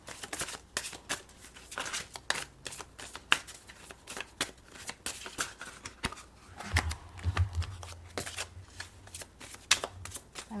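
Tarot cards being shuffled and pulled, a dense run of crisp riffling and flicking card sounds with sharp slaps as cards are drawn and laid down, close and fairly steady throughout.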